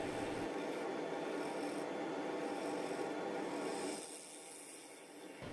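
Wood lathe turning a bowl as a gouge cuts around the inside corner, a steady close rasping, rubbing hiss that eases slightly toward the end, with no talk.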